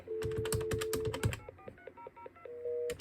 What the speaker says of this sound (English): call this phone and we'll get a busy signal again.